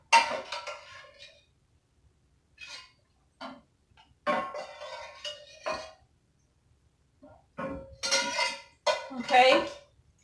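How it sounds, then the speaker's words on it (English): A utensil scrapes and clinks against the bottom of a pot of cooked ground turkey in a home kitchen, in several separate bursts of metallic scraping broken by short pauses. "See if I can scrape the bottom."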